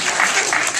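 A dense burst of audience applause, many hands clapping together in a steady, bright wash with no pauses.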